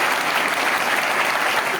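An audience clapping at a political rally in Haryana, a loud, dense and steady burst of applause from a large crowd that fills the whole moment.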